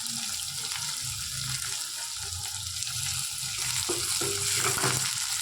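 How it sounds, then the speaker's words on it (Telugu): Sliced onions and green chili frying in a pan, a continuous close sizzle with some stirring clatter and watery crackle toward the end, no talking. "కొంచెం బ్రౌన్ కలర్ వచ్చే వరకు వేయించుకుందాం"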